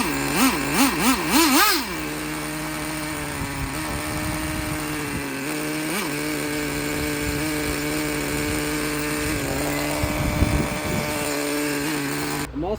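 Small Traxxas T-Maxx 2.5 nitro RC engine, a used and worn unit, running with a buzzing, steady idle after a brief revving burst at the start, close and loud with no talk.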